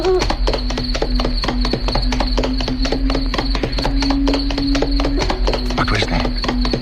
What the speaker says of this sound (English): he urged his old horse to go a little faster